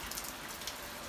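Steady rain falls outdoors in Vietnam, a continuous soft patter and hiss of drops on surfaces, faint and even throughout with no voices.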